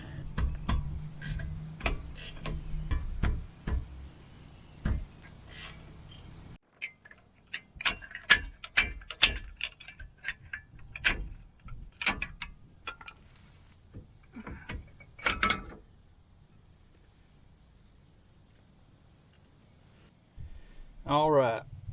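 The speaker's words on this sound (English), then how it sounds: "Now I'm going to take these other 2 bolts off and remove these calipers." Clicking, ratcheting tool work on the brake caliper bolts of a 1997 Jeep Wrangler, a run of sharp ticks and clanks with pauses, heard close, partly under a voice.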